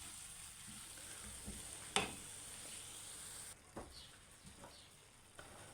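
Garlic fries quietly in a pan, a faint, low sizzle with a sharp clink of a utensil against the pan and a few softer stirring knocks spread through the quiet.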